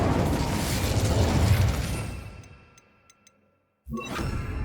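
Someone casts the Incendio fire spell in Hogwarts Legacy: a loud roaring, whooshing burst of flame that slowly dies away into faint clicks and near silence, then a second sharp blast cuts in abruptly.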